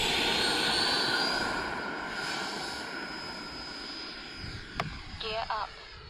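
A Freewing L-39 model jet in Russian camo rolls out for its maiden takeoff, a steady loud turbine-like whine with broad rushing noise, easing slightly as it climbs away, with a brief sharp click and short voice-like bursts near the end.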